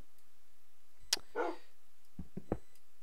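A tamed dog in Minecraft gives a few short, sharp barks, a clear yip and couple of quick barks spaced out over quiet game background.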